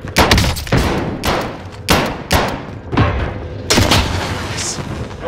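Enemy gunfire in the Call of Duty Warzone game on Rebirth Island comes as a series of loud, punchy shots and thuds in irregular bursts, each followed by a short reverberant tail.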